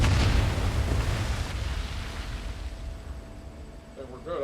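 An explosion in the World War II shooter Medal of Honor VR booms loud and close at the start, then its rumble fades slowly, with a voice coming in at the end.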